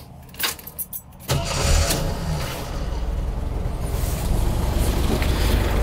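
A vehicle engine cranks briefly after a few faint clicks, then fires up and settles into a steady, smooth, low idle that continues close by without any talk.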